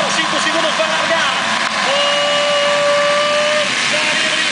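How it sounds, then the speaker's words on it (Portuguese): Motorcycle engines drone and rev together in a steady roar before a dirt-track race start, with one tone rising and holding, while a voice talks over the noise. "o coração bate mais forte, sobe o giro dos motores."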